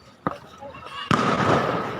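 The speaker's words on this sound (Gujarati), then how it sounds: "લોકો ફટાકડા ફોડે છે અહીંયા" Diwali firecrackers burst outdoors at Salangpur: a small pop, then a louder crack followed by a crackling, sustained rumble, with voices faintly in the background.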